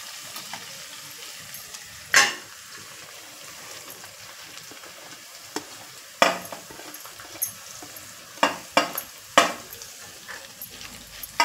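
Chopped green chillies and vegetables frying in oil for veg manchow soup, a low continuous sizzle broken by sharp utensil clinks and scrapes that come more often toward the end, no voices.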